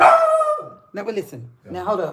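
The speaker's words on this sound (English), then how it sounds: "He's barking at the dog." A dog barks loudly nearby in a home, with a couple of sharp yelping barks at the start, then a voice talks over the remaining moments.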